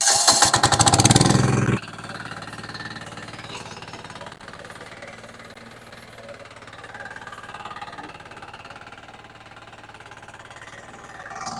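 Remote-controlled grass cutting machine with a rotor that chops grass into inch-long mulch pieces, at an agricultural exhibition; a loud engine roar first, then a steadier mechanical running drone continuing throughout.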